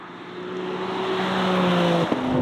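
Inside a 2024 BMW M3 Touring, the engine drones steadily as the car accelerates, its tone holding then dropping with a brief blip near the end, loud and continuous with no talking.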